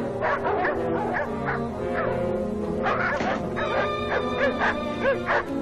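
A dog yips, whimpers and barks in quick repeated bursts, close and fairly loud, with a tonal howling quality running through the whole stretch and no talk over it.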